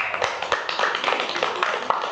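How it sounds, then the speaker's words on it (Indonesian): A classroom of students claps for a student group, a dense run of quick, sharp hand claps that keeps going steadily and close by. "Tepuk tangan untuk kelompok 3."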